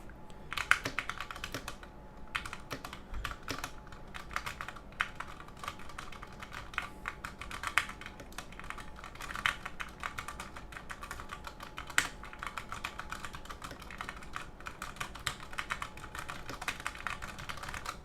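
Steady mechanical keyboard typing on a Ducky One 2 Mini in an aluminum case, crisp clacky keystrokes in quick continuous runs with occasional louder thocks, close and alone with no talking.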